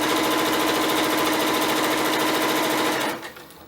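A sewing machine stitching gathers in fabric at long stitch length and high tension, running as a fast, steady mechanical whir close up for about three seconds before stopping abruptly.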